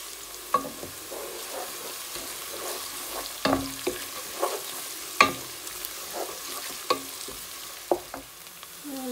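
Onion, ginger and bay leaf frying in hot oil for chicken biryani, a steady gentle sizzle with repeated clicking scrapes of a spatula against the pot, close up and without talk.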